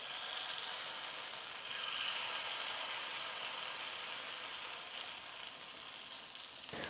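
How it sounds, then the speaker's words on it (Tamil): Paniyaram batter sizzles in an oiled paniyaram pan, a steady close crackling fry that holds at an even level without pause and with no talking. "இப்போ கொஞ்சம் கொஞ்சமாக மாவு எடுத்து நம்ம ஒவ்வொரு குழியிலையும் ஊற்றிக்கலாம்"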